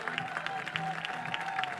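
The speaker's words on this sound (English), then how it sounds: "It's an applause from the fans." Fans at a college softball game, Ole Miss against Texas, clap in a brief scattered burst with crowd murmur behind.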